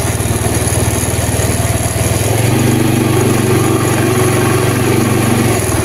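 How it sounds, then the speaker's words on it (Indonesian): A carbureted Honda Vario 110 scooter engine runs loud and close, with a steady throbbing drone whose pitch rises partway through as the throttle is opened and held, with no talking. "Sekarang coba ini saya gas."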